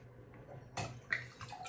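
Muscadet white wine pours into a glass in a quiet room, a faint, soft trickle with a few light splashes and clinks.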